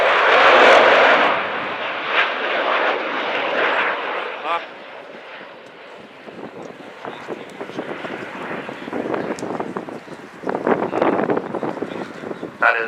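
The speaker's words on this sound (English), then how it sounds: "So we got to hear the Vulcan howl." Loud roaring jet engines of the Avro Vulcan bomber XH558 at an air show, a broad rumbling howl that surges and fades as it passes, with crowd noise underneath.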